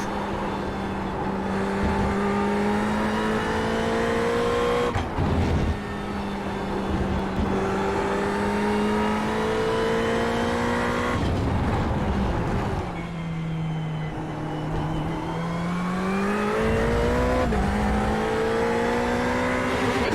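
A Ferrari 488 race car engine at Laguna Seca in the iRacing video game roars steadily from close by. Its pitch climbs through each gear, drops sharply on the shifts, and dips under braking before it revs up again.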